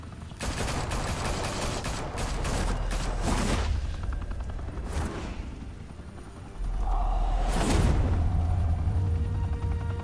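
Bursts of automatic gunfire in a Batman video game, rapid dense volleys of shots with heavy low rumble, pausing briefly before a second sustained barrage.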